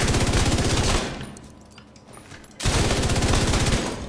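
The Iron Lung exotic light machine gun in The Division 2 fires fire bullets in loud, rapid sustained bursts, with a short break in the middle before heavy automatic fire resumes.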